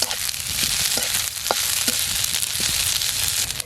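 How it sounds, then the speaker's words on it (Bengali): Boiled drumstick leaves and onions sizzle in a frying pan, a dense steady hiss with soft scraping and stirring clicks scattered throughout. "পেঁয়াজের সাথে মিলিয়ে পাতাটা আবার একটু নেড়ে চেড়ে নেব।"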